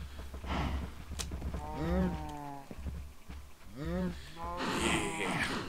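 A cow in the Minecraft video game lets out two drawn-out, wavering moos a couple of seconds apart, with soft game ambience and a voice talking in between.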